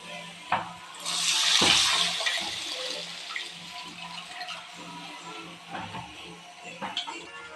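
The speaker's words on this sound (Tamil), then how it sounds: "அந்த புளி தண்ணியை ஊற்றிக்கலாம்" Tamarind water pours and splashes into a pan of egg curry for a couple of seconds, followed by quieter clinks and faint kitchen sounds.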